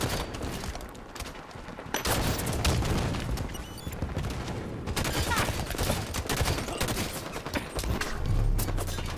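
Rapid bursts of automatic gunfire and booming shots from Halo 5 multiplayer combat, loud and sustained across the whole stretch with dense overlapping fire and a few heavier impacts, and brief faint talk in the background.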